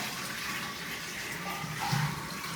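Water pours steadily into a Pongal pot outdoors, a continuous broadband splashing rush with a slight surge near the end, no voices during it.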